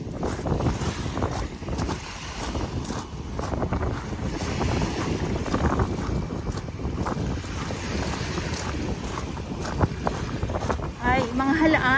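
Strong wind and waves on the beach at Manila Bay, a continuous rough roar of gusts buffeting the microphone over the rush of water, steady and loud throughout with no one talking.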